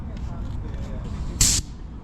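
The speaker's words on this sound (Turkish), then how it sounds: "Tozalma cihazıymış" A short, sharp burst of hissing compressed air from an air compressor dust blower cuts through a low rumble while people talk.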